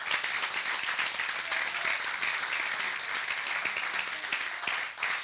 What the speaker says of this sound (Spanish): Era un aplauso a Dios de alabanza.